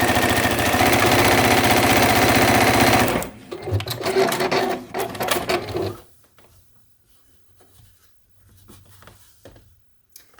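A sewing machine runs steadily and loudly, chain piecing rows of quilt blocks, then breaks into shorter stuttering bursts before stopping, with only light handling sounds after.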